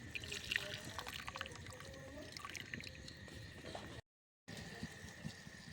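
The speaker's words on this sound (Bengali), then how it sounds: "এর মধ্যে সিরাটা ঢেলে নিব।" Sugar syrup pours into a pan in a steady, continuous stream that runs for several seconds before a brief gap, with kitchen background noise underneath.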